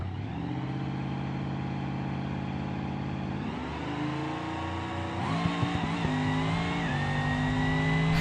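Moonhawk drag car in BeamNG roaring hard under full acceleration, a loud, steady engine drone that climbs through gear changes with brief shifts near the middle and end, no talk.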